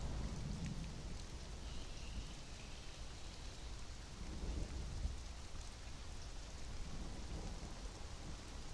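Rain falling steadily in the video game Conan Exiles, a constant broad hiss of downpour with a faint low rumble at times and no voices.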